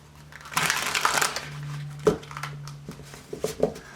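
Papery crinkling and rustling bursts as tarot cards are shuffled, a dense flurry early on followed by a few sharper snaps and taps, close and fairly quiet.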